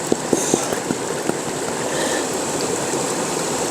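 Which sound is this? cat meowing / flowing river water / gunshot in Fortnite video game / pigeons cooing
flowing river water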